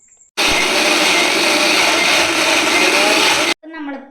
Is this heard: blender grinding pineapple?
yes